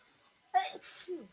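A single quick sneeze, close and fairly loud, followed by a brief soft voice in a quiet room.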